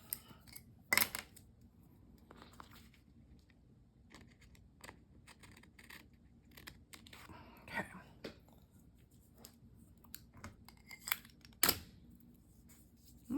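Scissors snip paper during Bible journaling, giving a few sharp isolated cuts among quiet rustling and handling noises, faint and close.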